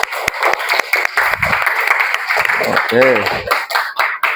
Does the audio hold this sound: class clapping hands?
yes